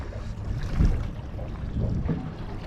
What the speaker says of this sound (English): I've got to keep snapping the engine in reverse just to stay on top of this rock here.